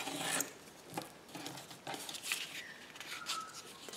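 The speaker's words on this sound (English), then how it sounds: "let's just trim this down carefully using a" A craft blade trims paper in a journal, giving a series of close, soft rasping scrapes and cuts in uneven bursts, with brief pauses between strokes.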